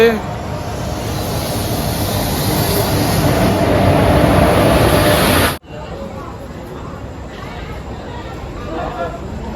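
The Paharia Express (15721 Digha–New Jalpaiguri) leaves Uluberia station at night with a loud, steady rolling rumble that cuts off sharply, leaving quieter station noise.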